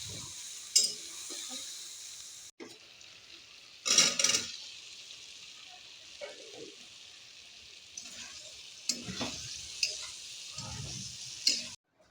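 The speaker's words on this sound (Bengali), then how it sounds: "এখন সোয়াবিনটা ভাজিয়ে তরকারি রান্না করব" Soybean chunks frying and being stirred in a pan for a vegetarian curry, steady sizzle with intermittent scraping stir strokes, close and moderately loud, no talk.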